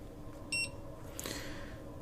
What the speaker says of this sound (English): So let's reset this one, the timer.